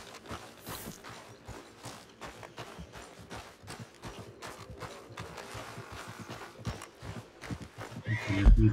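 A horse in the Red Dead Redemption 2 video game gives a whinny while its hooves clip-clop in a steady walking rhythm, fairly quiet and close, growing louder near the end.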